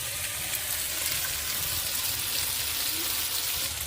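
Ground fennel and cumin paste frying in a pan for a fresh river pangas fish curry, a dense, even sizzle and hiss held close and steady throughout, with no voices.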